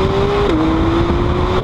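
Intake sound from a 2017 Acura NSX is piped into the cabin, a loud steady engine tone that dips slightly in pitch and then holds, heard from inside the car with no talking.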